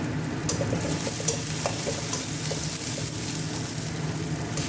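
Onions, green chillies and bay leaves frying in mustard oil in a pan while fish is being cooked: a steady, close crackling sizzle with a few stirring scrapes, continuous throughout with no voices.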